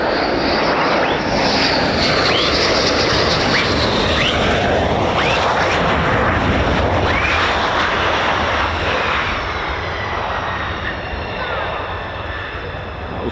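A military jet, an F-15 or F-35 of the 48th Fighter Wing, passing over RAF Lakenheath, with a loud, continuous broadband roar that fills the whole stretch and eases slightly toward the end.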